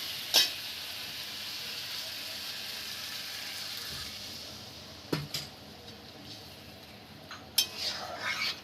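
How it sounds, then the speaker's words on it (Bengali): Potato and pointed gourd curry sizzling quietly in a pan as a little water is added, giving a few sharp splashes and clinks over a steady soft hiss, with no talking. "এবার সামান্য একটু জল দিয়ে দেবো।"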